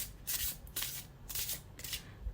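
A deck of tarot-style cards being shuffled by hand in quick riffling bursts, four close, soft rustling rounds separated by brief pauses, with no talking.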